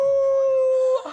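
A man in a Kannada TV serial scene imitates a dog's howl, a single loud sustained wailing tone lasting about a second before breaking off.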